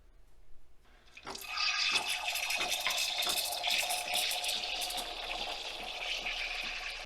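A Nespresso milk frother froths milk, starting quietly and then settling into a steady gurgling hiss at moderate volume close by, with no talking.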